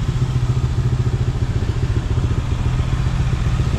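A Honda CBR 650 sport motorcycle engine runs close by with a loud, steady, rhythmic idle that puts out an even pulsing rumble.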